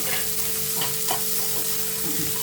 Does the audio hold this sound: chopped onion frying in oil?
yes